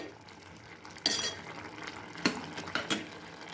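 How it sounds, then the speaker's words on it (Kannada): Ivy gourd stir-fry being stirred with salt in a pan: a faint, steady sizzle broken by a few sharp scrapes and clinks of a utensil against the pan. "ಉಪ್ಪು ಹಾಕಿ ಒಂದು ಸಲ ಎಲ್ಲ ಹಿಂಗೆ ಕೈ ಆಡ್ಬೇಕ್ರಿ"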